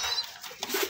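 A hen pigeon coos softly at close range, a few short low hoots near the end of a brief moment that also holds a faint chirp and light background hiss.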